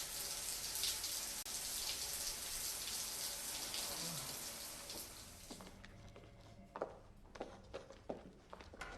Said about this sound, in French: Arrivée à la maison, elle prend une douche.